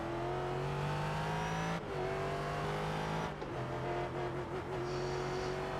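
Race cars in the iRacing video game whine through a corner, a steady high engine note that drops on a gear change and climbs again, loud and continuous with no talk.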